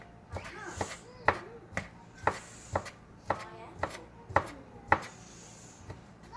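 A knife chops food into small pieces on a board in a home kitchen, about a dozen crisp, evenly spaced taps with faint scraping between them, close and clear.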